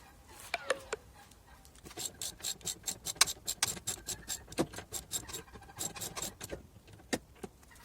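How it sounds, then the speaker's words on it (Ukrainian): A tool works the shock absorber rod nut on a Renault Megane 2, producing a rapid series of sharp metallic clicks and ratcheting ticks, close and fairly even in rhythm. "І для початку нам потрібно відпустити гайку штока амортизатора."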